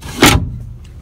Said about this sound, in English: when you want to lock it, you push in and slide up